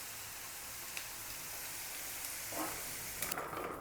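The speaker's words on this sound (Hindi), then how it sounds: "ये देखिए बिल्कुल हल्का सा फ्राई कर लिया मैंने और इसको मैं बाहर निकाल लूँगी" Garlic cloves fry in oil for a homemade garlic pickle, giving a steady, soft crackling sizzle with scattered pops throughout.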